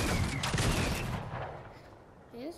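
Burst of gunfire in a Fortnite battle royale duo match, dense rapid shots up front that fade out, with a short voice near the end.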